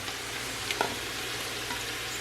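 Freshly washed mushrooms tumble into a hot pan with celery for a cream of shrimp and scallop soup, producing a continuous close sizzle, a brief clatter near the middle, and light stirring.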